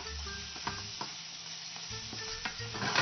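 A stir-fry mixture with minced chili and cashew oil is stirred and sizzling in a pan, steady frying hiss with soft scraping strokes of a utensil repeating throughout, close and moderately loud, no talking.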